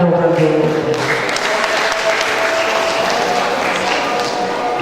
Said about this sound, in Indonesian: Tepuk tangan untuk regu C.